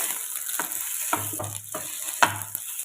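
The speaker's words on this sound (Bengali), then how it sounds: "এবারে সেদ্ধ করে রাখা আলুটা দিয়ে দেব ম্যাশের সাহায্যে ম্যাশ করে নেব" Boiled potato being mashed with a masher in a pan, several soft rhythmic squelching presses over a steady background hiss.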